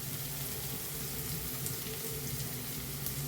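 Ginger garlic paste, coriander and green chilli sautéing in a pan for egg thoran give a steady, close, continuous sizzle with no voices.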